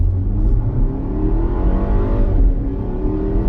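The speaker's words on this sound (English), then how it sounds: "let's see what this throttle tip-in is like" A German car pulls away hard from a stop sign with a sharp throttle tip-in, engine note climbing steadily and loud inside the cabin, a continuous rising roar with no talk over it.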